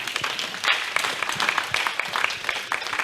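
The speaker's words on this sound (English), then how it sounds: "Let's clap for him." A church congregation applauding together for their Reverend Father, a dense, steady burst of many hands clapping at moderate distance with no voices over it.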